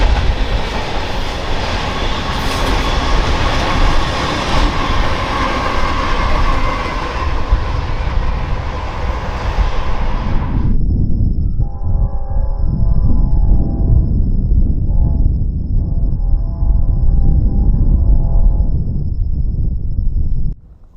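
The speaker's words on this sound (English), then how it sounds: "this stretch of the Lakeside Sub sees some pretty fast-moving trains" A fast BNSF freight train on the Lakeside Subdivision in eastern Washington rumbles past loud and steady with a heavy roar, then its wheels clatter rhythmically as cars roll by, ending abruptly.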